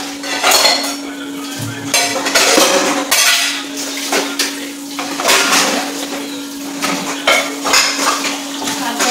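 Metal dishes, pots and cutlery for breakfast and tea clatter and clink as they are taken out in a home kitchen, near and busy, with a steady hum in the background.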